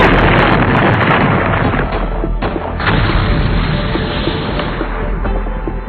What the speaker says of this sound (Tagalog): Sa mga pagsabog na naririnig natin, parang may nagaganap na gyera.